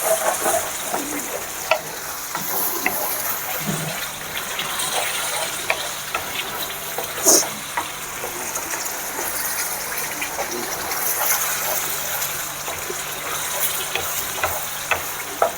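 Tamarind chutney with lemon juice simmers in a pan on a gas stove, giving a steady soft sizzle and bubbling with occasional light stirring clinks, moderately close and without talk.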